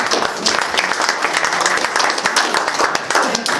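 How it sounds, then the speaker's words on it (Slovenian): Audience applause fills a hall at a sports hall of fame induction ceremony, a dense, loud, continuous clatter of many hands clapping, steady from start to finish. "Še en aplavz, prosim."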